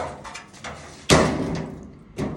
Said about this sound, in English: Door latches.